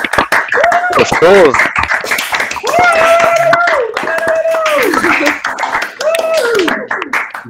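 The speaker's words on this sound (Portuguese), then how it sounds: "gostaria que mandasse novamente os microfones para uma outra salva de palmas para Gustavo aí." Audience members at a university physics colloquium applaud with dense, crackling hand claps, heard under loud, nearby talking and laughter throughout.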